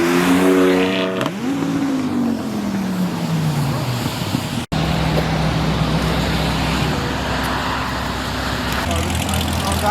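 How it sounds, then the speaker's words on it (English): Car engine revving at a rainy car meet, loud rising harmonics at the start then settling into a steady idle drone, with people talking nearby over background noise. "Why are you over there revving your car"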